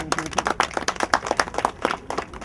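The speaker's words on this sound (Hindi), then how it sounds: "सब लोग जोरदार तालियां बजाएंगे आपके लिए" Scattered hand claps from an audience applauding a guest during a Hindi-language gathering, brisk and uneven, moderately close, fading in and out without any speech over them.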